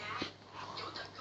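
A dog whimpers at home, giving a short, thin whine amid faint background noise and indistinct voices.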